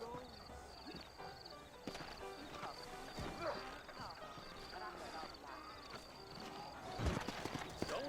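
Horse hooves clip-clop in a steady rhythm as a rider moves off in the Red Dead Redemption video game, mixed with in-game sounds and voices talking over the hoofbeats.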